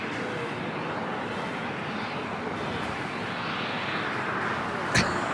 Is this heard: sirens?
no